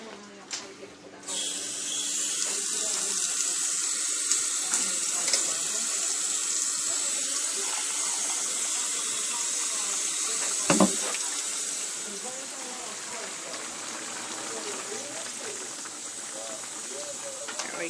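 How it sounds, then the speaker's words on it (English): A kitchen tap running steadily to add about a cup of water to a pot of turkey, mushroom and feta sauce with noodles: a continuous hissing rush of water that runs on at a steady level. "May have to add a little bit more water, maybe an extra cup."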